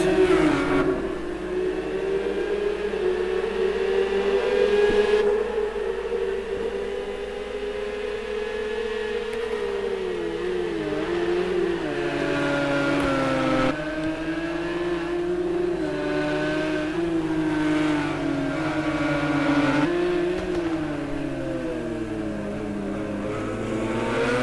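Race car engines drone and whine continuously on a track as they rise and fall in pitch with gear changes, a steady loud racing roar with no voices.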